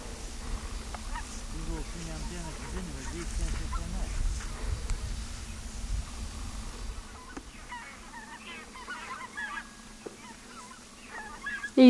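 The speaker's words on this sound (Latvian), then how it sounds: "Zosis meklē, kur nosēsties." A flock of geese circling over a cranberry swamp looking for a place to land, honking repeatedly in loose overlapping calls at moderate distance, fading later under faint voices and outdoor background.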